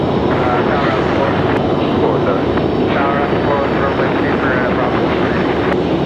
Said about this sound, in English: As the Dreamliner makes her way down.